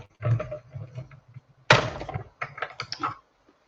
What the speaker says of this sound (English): That's okay when it does a clunk like that.